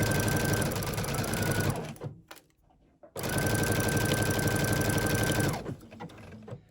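Sewing machine stitching T-shirt fabric in two close, loud bursts of rapid mechanical whirring, separated by a short pause of near silence, then stopping.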